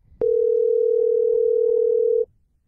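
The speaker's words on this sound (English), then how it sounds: "I'm going to see if he picks up the phone." A single steady telephone tone sounds for about two seconds during an outgoing call, loud and close, starting and stopping abruptly with no talk over it.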